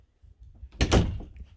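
A utility closet door swings shut with a single solid thunk after some soft shuffling and handling noises, heard close by in a quiet indoor room.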